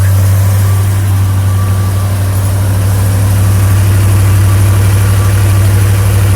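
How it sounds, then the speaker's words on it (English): A 1969 Dodge Roadrunner with its carburetor on choke idles on a very cold day, a loud, close, steady low engine rumble with an even beat and no talking. "She's idling just fine, so the carburetor is doing its work with the choke."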